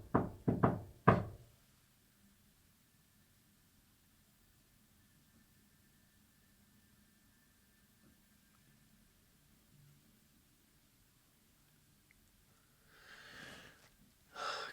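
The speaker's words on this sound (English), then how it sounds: "Can you finish this knock for us?" A short run of loud knocks on a wall inside an old hospital opens the moment, about four close raps, followed by long near-silence and a faint scuffle or breath near the end.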